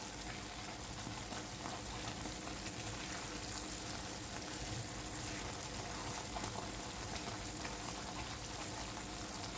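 Thick peda sweet mixture stirred continuously in a pan over a high flame, a steady dense hiss and gentle bubbling with soft scraping running throughout, close and even, no talking.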